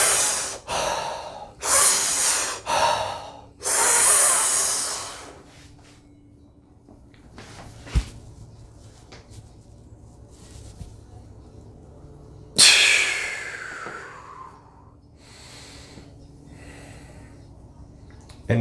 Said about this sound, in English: you'll take 3 more deep breaths. So, and on the 3rd breath, you hold.